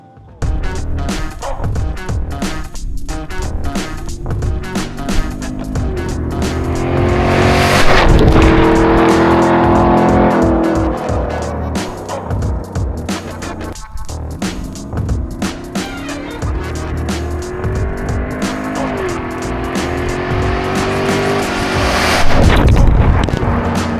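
A 2014-or-later GM truck fitted with an Amp'd 2.0 throttle booster accelerates hard, building a loud, rising engine roar over two long pulls, with road and tire noise carrying between them.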